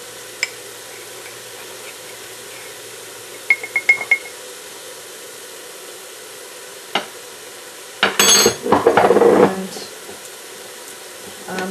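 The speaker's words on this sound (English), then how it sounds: "Now I'm going to add a tablespoon of salt, a tablespoon of thyme here." Salt and thyme are spooned into a pot of creamless mushroom soup: a few faint clinks early on, long quiet stretches, then a short, close burst of stirring and scraping near the end.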